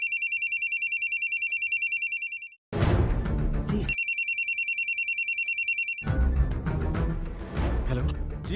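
A telephone rings in two bursts of rapid electronic trills, each cut off by loud music and crowd noise.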